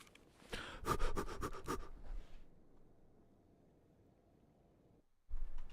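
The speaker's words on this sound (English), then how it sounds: "You don't hear the heavy breathing?" Heavy, rhythmic panting breaths from a character in the game Escape From Tarkov, close and fairly faint, a quick run of gasps that fades into near silence.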